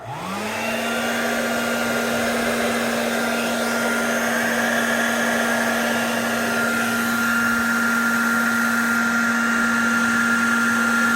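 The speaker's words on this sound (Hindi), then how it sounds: "अब मैं इसको ऑन करने लगा हूँ ये ड्रायर को" A hair dryer running on a Sorotec 1200 W solar inverter switches on and spins up within a second, then holds a loud, steady motor whine and blowing air rush close by for the rest of the clip.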